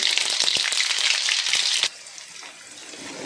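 Mustard seeds hit about four spoons of hot oil to temper vangi bath, an eggplant rice dish. A loud, close sizzling hiss with sharp pops runs for almost two seconds, then drops abruptly to a much quieter sizzle.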